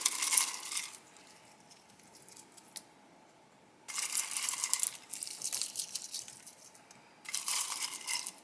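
Shelled walnuts drop into brownie batter in a few separate bursts of crisp clattering and crunchy rustling, close by, with quiet pauses between the handfuls.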